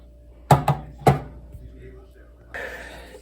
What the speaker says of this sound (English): Mushrooms cut.